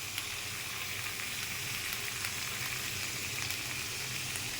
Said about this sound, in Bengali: মরিচ দিয়ে ফুলকপি আলুটা ভেজে নিতে হবে।